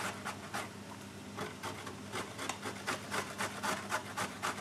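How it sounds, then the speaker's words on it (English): Carrots are grated by hand for bean burgers, producing a soft, steady run of rhythmic rasping strokes at close range, fairly quiet throughout. "And then again, just grate in the rest of them."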